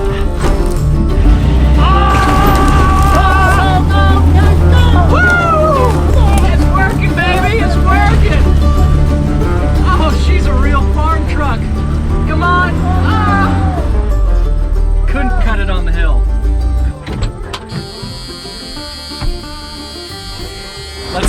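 Old Ford truck with an inline six-cylinder engine revving hard during a tug-of-war against a Ram, a loud sustained engine roar with rising and falling pitch, people talking over it, then the engine drops off near the end.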